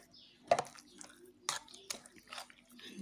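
A spoon stirs two spoonfuls of sugar into milk or water, making faint, intermittent clinks and scrapes with quiet, wet swishes between them.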